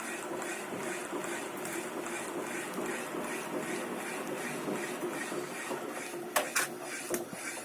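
A manual honey extractor with a gearbox being cranked slowly at an apiary, giving a steady whirring, rattling churn throughout, with a few sharper clicks and knocks near the end.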